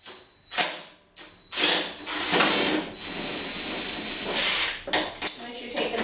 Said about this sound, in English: I am using a 13 millimeter bit to get the brace off